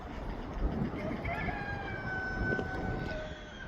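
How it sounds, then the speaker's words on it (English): Roosters on a small farm crow in long drawn calls over steady outdoor background noise at sunset, moderately distant. "Thanks, roosters."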